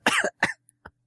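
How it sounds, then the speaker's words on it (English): A single person coughs twice in quick succession, close and fairly loud, followed by a small throat-clearing sound, with no speech. "The game makes me cough."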